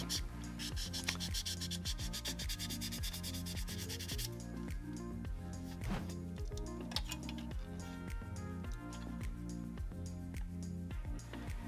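A sanding pad scuffs the plastic body of a 1/24 scale NASCAR Next Gen model car. Continuous close rubbing strokes come in a quick back-and-forth rhythm, steady and fairly quiet, with no one speaking.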